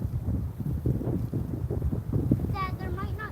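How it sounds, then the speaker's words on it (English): Gusty wind buffets the microphone outdoors on a Florida fishing trip for catfish bait, a steady rumbling roar throughout, with a short burst of higher tonal sound near the end. "it is super windy out here"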